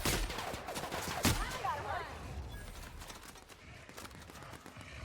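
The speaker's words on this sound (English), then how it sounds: "It's supposed to be a shotgun. Oh, it's a sawn-off, isn't it?" Sawn-off shotgun blasts in the video game Outer Worlds, a sharp loud shot early on followed by a dense stretch of game action and effects, with someone talking over it.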